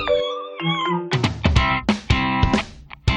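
A cat meowing several times in quick succession, loud and close, with drawn-out mewing calls mixed with a few sharper yowls.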